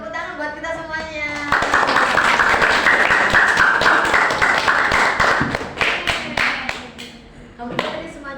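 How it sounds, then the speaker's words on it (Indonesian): Classmates in a middle school science lesson clap together in a burst of dense applause lasting several seconds, then scattered claps trail off while voices talk over and after it. "Oke, tepuk tangan buat kita semuanya."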